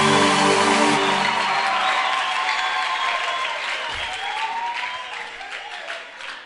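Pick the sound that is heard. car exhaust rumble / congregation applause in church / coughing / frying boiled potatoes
congregation applause in church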